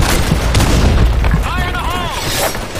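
Grenade blasts in a video game, heavy booming impacts rolling over continuous loud game noise, with voices talking over the action.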